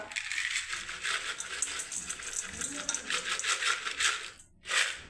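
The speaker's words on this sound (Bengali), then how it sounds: "এবারে দেখুন বন্ধুরা একটু আমি চানাচুর দিয়ে দিচ্ছি" Chanachur, a crunchy fried snack mix, is poured onto puffed rice for jhal muri, making a steady dry rattling patter of small pieces that runs almost continuously and then briefly stops.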